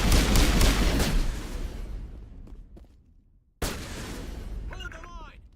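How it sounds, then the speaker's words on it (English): Dense gunfire and explosive booms from a Mass Effect firefight, loud and continuous, then fading and cutting out before resuming, with voices talking over the battle near the end. "This is gun battle"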